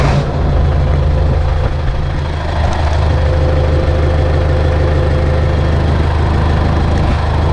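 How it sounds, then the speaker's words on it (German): A tractor engine with a faulty PTO shift mechanism runs with the throttle opened up, producing a loud, steady, close diesel drone with a deep low rumble throughout. "Jetzt geben wir aber noch ein bisschen Gas."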